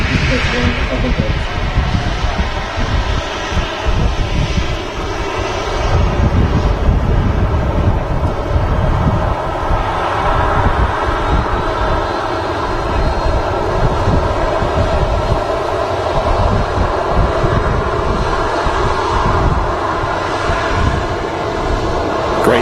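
Boeing 737 jet taxiing at Manchester Airport, a loud, continuous roar and whine of engines close by that holds steady for over twenty seconds, with some talking over it.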